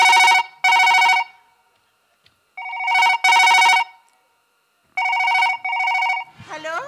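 A telephone rings in loud, evenly spaced double bursts, three pairs in all, each followed by a short pause, with a brief voice coming in at the very end.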